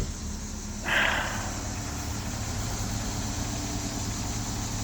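A car engine idles steadily at close range, a constant low rumble with a brief hiss near the start, with no voices.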